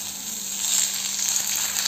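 Oil sizzling steadily in a pan as it heats for roasting vegetables, a continuous bright crackle with no talk, growing slightly louder partway through.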